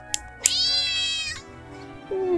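A cat in a mouse simulator video game lets out a long, loud, drawn-out meow after a couple of sharp clicks, the cry dropping off before a brief tonal sound.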